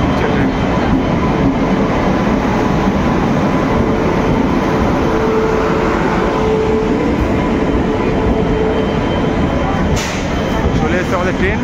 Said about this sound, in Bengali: হলদিবাড়ি শিয়ালদা দার্জিলিং মেল চলে এসছে এনজেপি 3 নম্বর প্ল্যাটফর্মে